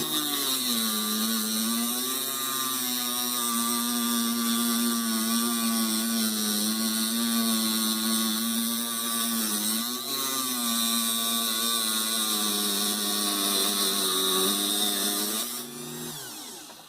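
A rotary power tool cuts through metal stock while making DIY pinning tweezers, a steady high-pitched whine with strong tonal harmonics running loud and close for about sixteen seconds before winding down at the end.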